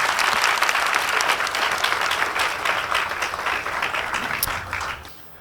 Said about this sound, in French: Qu'on applaudisse encore une fois.